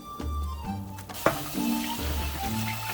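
Thinly sliced beef fries in a pan with a steady sizzle, broken by a clatter of utensil or pan scraping and a brief sharp knock near the middle; no talking.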